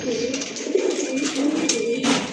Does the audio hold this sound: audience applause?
no